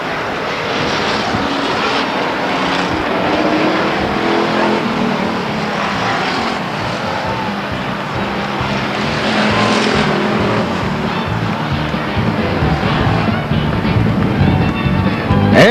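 Race cars roar around the Stockton 99 Speedway oval in a loud continuous drone that swells and fades as the cars pass, with announcer talk faintly beneath.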